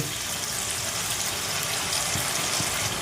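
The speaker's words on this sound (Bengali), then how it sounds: "বাটিটা ধুয়ে একটু জল দেব" Tap water runs steadily to rinse out a bowl that held whisked yogurt, a continuous close hiss and splash in a home kitchen while cooking Bengali-style chicken curry.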